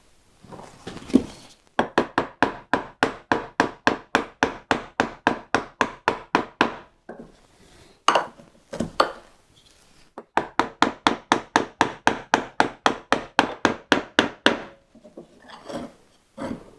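A mallet strikes a wood chisel cutting a half-lap joint, producing rapid, evenly spaced hollow knocks in long runs of about twenty blows, broken by short pauses and a few scattered strikes, close and clear.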